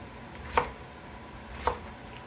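A knife chopping greens for ramen soup on a cutting board: two sharp, isolated chops about a second apart, close and clear against a quiet room.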